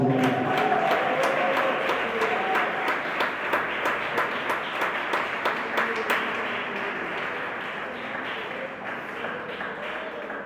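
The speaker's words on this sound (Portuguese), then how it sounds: "Levante a mão e glorifique o Senhor com bastante palmas." A church congregation applauds with a steady wash of clapping that gradually thins and fades, some sharp individual claps standing out, with faint voices or tones beneath.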